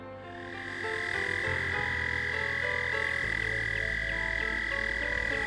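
American toads trilling en masse at a shallow pond, a dense, continuous high chorus of overlapping long trills, loud and close, with deeper calls swelling partway through and no talking.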